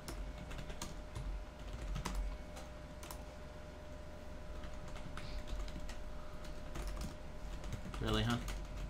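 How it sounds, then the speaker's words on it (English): Rapid clicking of computer keyboard keys during a Dead by Daylight session, an irregular stream of close taps with a louder burst near the end, under intermittent background talk. "I was typing in the chat!"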